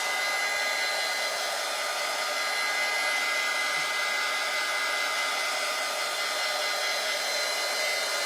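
Hair dryer blowing steadily on a freshly painted stencil, a loud, close, unbroken whir lasting the whole stretch with no voices.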